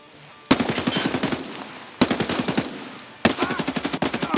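Automatic gunfire in Escape from Tarkov: three loud, close bursts of rapid shots, each a sharp train of cracks separated by short pauses, with no talking.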